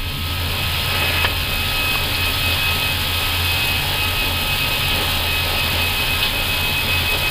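Airbus A320 jet engines spool up to takeoff thrust on a runway in Jakarta, a loud, steady roar with broadband rush and low hum throughout, no talk over it.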